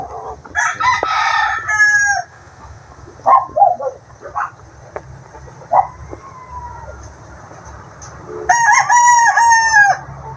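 Bulik straight comb gamefowl roosters crowing loudly and close, two long drawn-out crows at the start and end with shorter clucks and calls in between over faint background noise.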